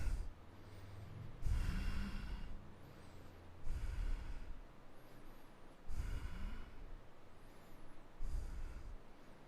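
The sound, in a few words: deep breathing during a yoga lunge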